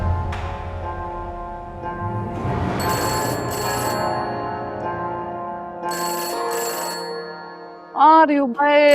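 A telephone rings in a TV drama scene, a melodic electronic ringtone repeating in bursts over background music, followed by a woman's brief sung or spoken voice at the end.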